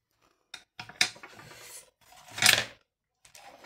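Scissors snip through material during a Father's Day gift craft at home, a few short crisp cuts with brief rustling between them, close and fairly quiet with no talking.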